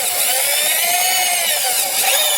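A drill fitted with a mixing paddle churns a dry fiber reinforced concrete mix of sand, cement and fibers in a bucket, giving a steady, close, high-pitched whine with a gritty hiss throughout, no talking.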